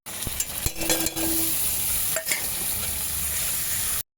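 Spices with turmeric and grated ginger fry in a pan for vegetable dal, a close, continuous sizzle broken by quick scraping stirs and a few light utensil clinks.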